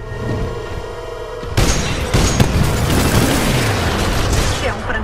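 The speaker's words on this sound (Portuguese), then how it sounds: "Grupo de mísseis pronto" A missile salvo fires in Titanfall 2, a sudden loud rush of launches with rumbling booms and crackling bursts under an ongoing synthetic hum, dense and close.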